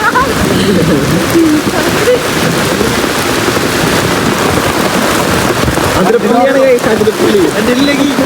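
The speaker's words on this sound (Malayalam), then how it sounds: "ഒന്ന് കേക്കില്ലേന് അത്രയും സൗണ്ട് മഴയുടെ കേക്കില്ലേ" Dense, steady roar of heavy rain pours down while people talk loudly over it.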